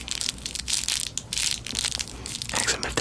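Small wrapped presents squeezed by a child close to the microphone, continuous crinkling and crushing of paper in irregular bursts, near and fairly soft.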